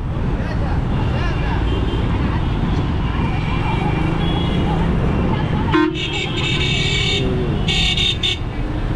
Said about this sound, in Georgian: არ დაასიგნალო ძმა?